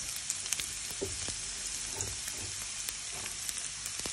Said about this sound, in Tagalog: Nag-brown na yung bawang. So, ilagay natin ang sibuyas.